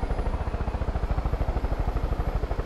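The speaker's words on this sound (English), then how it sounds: "flaming helicopter just going down over there." Steady rapid thumping of a burning helicopter's rotor blades as it goes down in the video game Far Cry 5, loud and close, with a faint high whine above and no voices.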